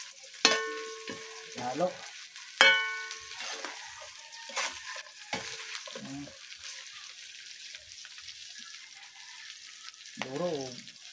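Fish fries in a pan for a sautéed fish and squash dish, giving a quiet sizzle broken by sharp clinks and scrapes of a utensil against the pan, with a brief spoken word near the end.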